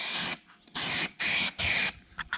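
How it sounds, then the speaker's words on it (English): An aerosol can of cold galvanizing paint sprays in three strong bursts, each about half a second long, then gives a couple of short spits. It is being applied to weld zones on a 1968 Nova during a rusty quarter panel replacement. "So I'm just using this cold galvanizing spray right in here on all these weld zone areas."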